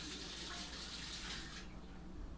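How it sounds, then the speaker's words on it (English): Tap water running into a measuring cup while making dinner rolls, a steady splashing gush close by that softens and thins near the end, no voices. "I'm going to go ahead and run this under the water real quick."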